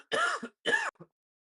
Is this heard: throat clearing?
yes